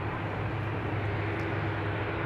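An American Airlines Boeing 787-8 Dreamliner departs from a large airport, a steady, moderately distant engine roar with a low rumbling hum.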